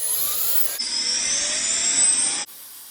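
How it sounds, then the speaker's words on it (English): A hairdryer switches on with a jump in level and blows a steady whining rush of air, then cuts off near the end. "I'm just going to get my dad's hairdryer, and I'm just going to turn this on."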